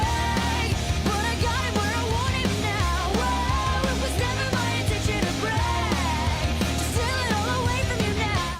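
An early pop punk song plays loud and dense, with full band and sung vocals running continuously.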